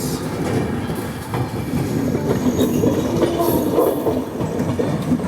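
The 17630 Hazur Sahib Nanded Hadapsar Express rolls along at speed, a loud, steady rumble of wheels with faint clickety-clack and occasional high squeals, heard from on board.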